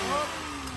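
A Toyota Wigo with an automatic transmission idles steadily, its engine a close, even hum for under a second with no talk.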